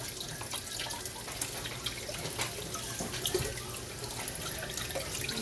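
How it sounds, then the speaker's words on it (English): Three whole carrots rinsed under a running kitchen tap: a steady, close rush of water with small splashes and drips as the carrots are turned in the stream, with no voices. "Just giving it a good rinse, getting that dirt off."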